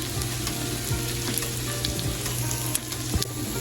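A kimchi pancake frying on high heat in a pan, a continuous close sizzle and crackle of oil with occasional light stirring or scraping sounds and no talk.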